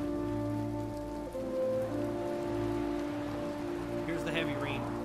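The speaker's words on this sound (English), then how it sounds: "Here's the heavy rain. It's started." Heavy rain falls in the video game Heavy Rain, a continuous hiss of drops on surfaces layered over sustained droning musical tones, with a brief brighter flutter near the end.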